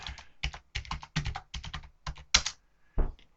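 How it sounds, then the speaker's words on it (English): Quick bursts of typing on a computer keyboard while entering a password, crisp close key clicks in short clustered runs, ending with a firmer tap like an enter key. "So I hit enter here, and I enter my password."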